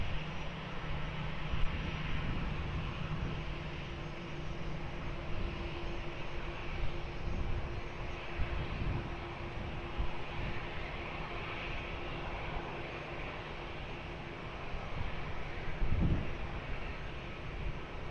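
An airliner takes off from runway 20 at Lisbon Airport, producing a sustained, fairly distant jet engine roar with a low droning hum, steady throughout and heard alone.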